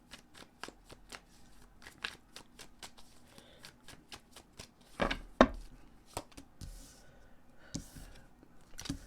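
Tarot cards being shuffled, a steady run of crisp riffling slaps and flutters at close range, with a couple of louder bursts partway through and soft speech faintly underneath.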